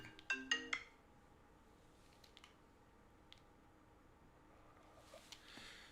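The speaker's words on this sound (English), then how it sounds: "I have a phone call." A phone rings with an incoming call, a short burst of bright repeating electronic tones at the start, fairly faint, followed by quiet room noise and a few soft ticks.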